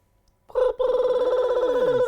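A telephone rings with a steady, loud electronic bell tone that starts abruptly, breaks off briefly, then continues unbroken, close and alone with no talk over it.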